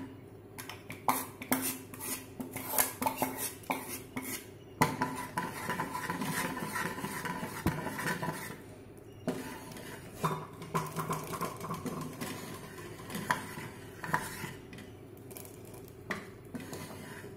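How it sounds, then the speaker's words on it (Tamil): Cashews and raisins are stirred into pasiparuppu (lentil) payasam in a pot, with close, repeated spoon clinks and scrapes against the pot in bursts and short pauses. "இப்போது இந்த முந்திரி பருப்பு திராட்சையை இதோடு சேர்த்துடலாம்"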